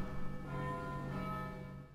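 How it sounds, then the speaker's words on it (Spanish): A bell in the Vagrant Story video game tolls once, a single sustained metallic ring with rich lingering overtones that slowly fade, faint and without any talking. "Una de las campanas"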